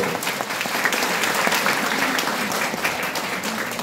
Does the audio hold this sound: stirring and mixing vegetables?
no